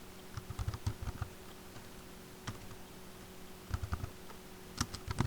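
Typing on a computer keyboard while entering data in SAP S/4HANA banking configuration, heard as quiet irregular bursts of key clicks separated by short pauses, with no talking.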